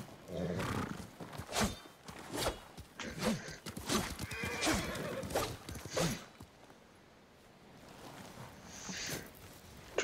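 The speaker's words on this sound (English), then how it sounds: "Horse." Horse in the Ghost of Tsushima video game, loud whinnies and snorts with hoof clatter in repeated bursts, then a quieter stretch before sound picks up again at the end.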